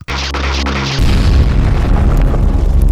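A bomb-firing gun from a superhero action film lets out a loud, deep boom that rumbles continuously, with a second heavier blast about a second in that keeps roaring to the end.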